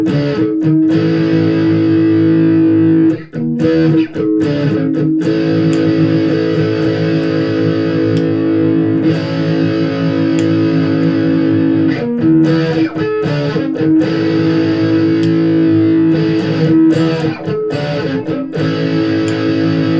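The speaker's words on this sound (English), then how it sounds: "So we'll play it with the humbucker." Electric guitar through a humbucker pickup with heavy distortion, sustained chords ringing loud and steady with brief choppy breaks, played alone with no talking.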